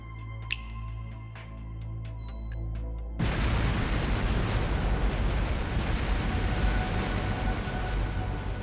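In the video game Trails Through Daybreak, explosive artifacts go off after a quiet stretch with a faint chime, bursting into a sudden loud, sustained rumbling roar of blasts that fills the remainder.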